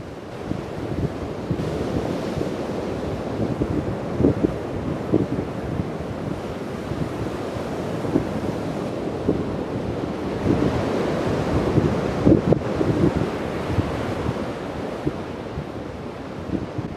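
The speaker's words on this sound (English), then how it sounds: "as you can see, it was very windy and very cold" Strong wind buffets the microphone at the seashore while waves surge and break in a constant loud roar, with no voices.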